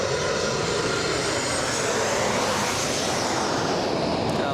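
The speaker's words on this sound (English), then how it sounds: "What you just heard right now, that was an Alaska Airlines flying above us" Alaska Airlines jet passing overhead near Los Angeles International Airport, a loud, steady broadband engine roar that fills the whole clip with no voices.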